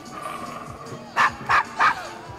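A dog in the Assassin's Creed Syndicate video game gives three sharp, evenly spaced barks, loud and close, over quiet game background sound.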